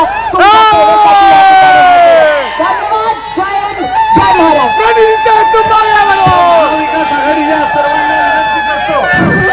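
Dense crowd at a political rally cheering and shouting, loud and close, with whoops and loud voices rising and falling throughout.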